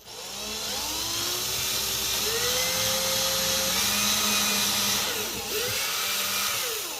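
Small power drill with a 1.5mm bit boring tiny holes in a custom Epiphone Les Paul guitar body, a steady high whine with rising and falling motor pitch, close and continuous for several seconds.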